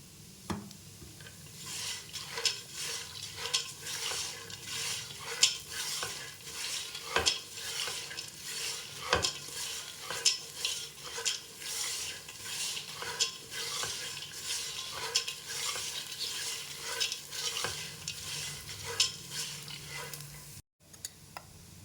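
Puffed rice snack roasting over a low flame in a pan while being stirred, a soft continuous sizzle under quick, rhythmic spatula scrapes and taps, fairly quiet and steady throughout.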